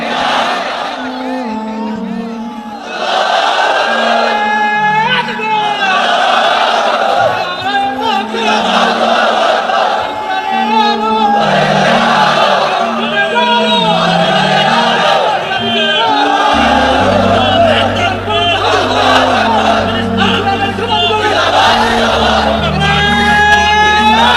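A large gathering at an Islamic religious lecture by Mizanur Rahman Azhari chants takbir, 'Allahu Akbar', in loud, rhythmic, repeated group shouts. A low steady drone runs beneath the latter half.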